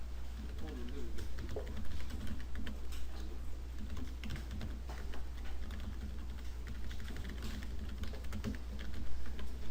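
Keys clatter on a computer keyboard with scattered light taps, including Tab presses, over a steady low hum, while someone speaks continuously over the typing.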